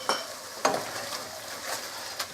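Tomato paste stirred into bolognese mince frying in a pan, a constant close sizzle broken by a few scraping spoon strokes, no talk.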